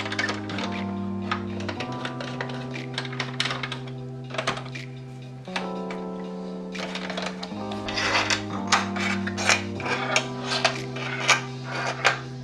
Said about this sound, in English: The next step is to unscrew a total of 8 screws on the top metal case.